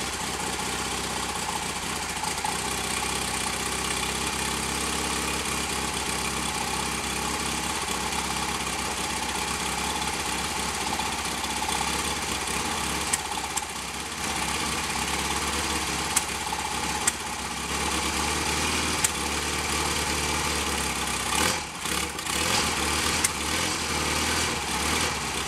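A Royal Enfield Constellation motorcycle with a wet-sump engine idles at a fast tick over, a steady, even mechanical drone that holds for the whole stretch with a few faint knocks and no talking.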